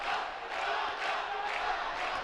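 A big Mexican contingency of fans cheers from above the ring during a bout at the 2011 AIBA World Boxing Championships in Baku, a steady, dense roar of crowd voices with swelling shouts throughout.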